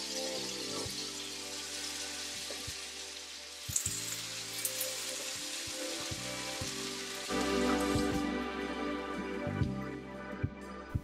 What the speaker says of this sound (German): werde ich jetzt hier noch zur Dekoration ein paar Apfelringe in Butter anbraten.